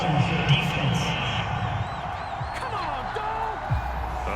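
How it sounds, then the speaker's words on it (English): Stadium crowd in Madden 22 reacts to a penalty call in a Browns at Steelers game, a broad rumbling roar with scattered whistles and whoops that swells and fades. "This crowd does not like that call."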